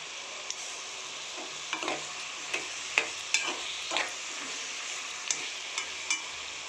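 Brinjal frying with tomatoes and turmeric in a pan, a soft continuous sizzle broken by a series of sharp spoon scrapes and taps as the mixture is stirred.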